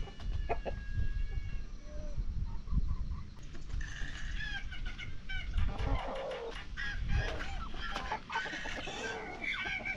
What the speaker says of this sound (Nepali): चल्ला चाहिँ कुप्चाउँदै रहेछ